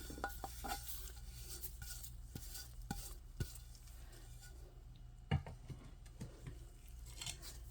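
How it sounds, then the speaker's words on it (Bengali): A spoon stirs a spiced snack mixture of chili flakes and white sesame in a bowl, making soft scraping and clinking taps at an uneven rhythm, close and quiet, with no voices. "এখন ভালো করে মিক্স করে নেব"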